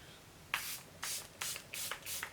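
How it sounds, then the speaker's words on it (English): Charlotte Tilbury Airbrush Flawless Setting Spray goes off in five short, close, breathy spritzes spaced about half a second apart, with quiet gaps between them. "I'm going to use my Charlotte Tilbury Airbrush Flawless Setting Spray."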